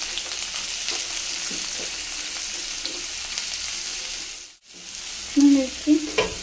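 Garlic, ginger and onion sizzle and fry in hot oil in a pan while cooking bhindi fry masala, a steady close crackling hiss with a brief dip, then a few louder stir scrapes near the end.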